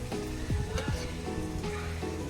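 Fish frying in a pan for a Bengali fish kalia gives a steady, close sizzle with faint stirring and scraping, with no voices.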